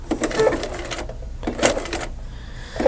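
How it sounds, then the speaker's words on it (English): Domestic sewing machine stitching quilt pieces in short bursts, three quick runs of needle stitching separated by brief pauses, close and clear with no talk. "I'm going to start sewing, and when I start sewing I'm going to sew 3 stitches and stop with the needle"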